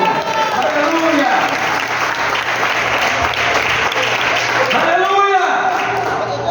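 A church congregation applauding, sustained dense clapping filling the room, with voices shouting over it.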